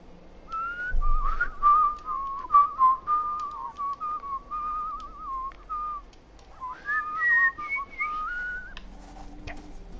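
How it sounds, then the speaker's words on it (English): A person whistles a wandering melody alone for about ten seconds, with sustained tones and a short pause midway before the tune resumes. "Fine. I'll just whistle then."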